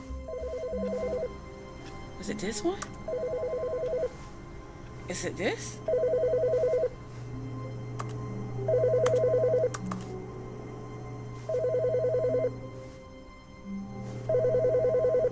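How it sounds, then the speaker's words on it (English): A telephone rings in The Stanley Parable video game, repeating in regular bursts of rapid trilling bells under a low steady hum, while a person talks occasionally between the rings. "There's a phone ringing."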